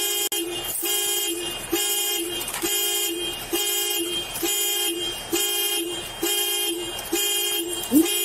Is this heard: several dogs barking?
no